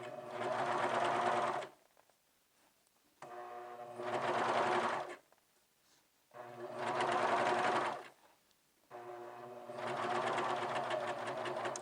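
Serger overlocking over cording with a specialty serger foot, four steady bursts of rapid mechanical stitching of a few seconds each, separated by short quiet gaps, close and moderately loud.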